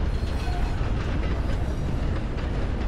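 A train in Red Dead Online rolls steadily along its rails, a continuous rumbling drone with faint rhythmic clatter that stays loud and even throughout, with no voices over it.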